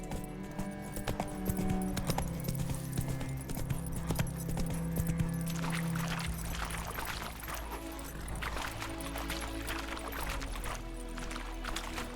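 Horse hooves clip-clop steadily in The Witcher 3, a continuous rhythmic trotting of a mount over ground, close and fairly loud against a droning game background, with no talking.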